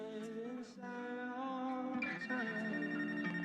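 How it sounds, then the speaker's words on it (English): An incoming phone call rings in the video game Life Is Strange: True Colors, a steady electronic ringtone with a sustained harmonic tone, fairly quiet and heard without talking. "Phone incoming call."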